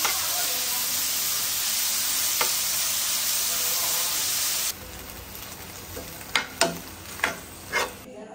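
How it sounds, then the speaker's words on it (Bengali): Chicken frying in hot oil, a dense, loud sizzle for the first half, then a quieter crackle broken by several sharp spits and pops close by. "তাম্বির এখন চিকেন ফ্রাই করবা।"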